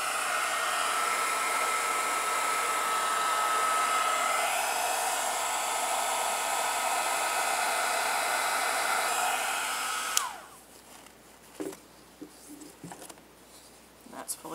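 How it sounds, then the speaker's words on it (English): A heat gun blows a steady, loud whooshing hum while drying a homemade washi tape craft project, then cuts off around ten seconds in, leaving faint handling clicks and taps. "So now I'm going to grab my heat gun."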